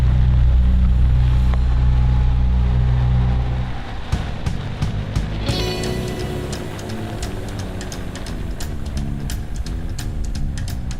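A machine engine runs steadily throughout, at first a loud low rumble that then gives way to a busier mechanical drone with sharp clicks and knocks scattered over it.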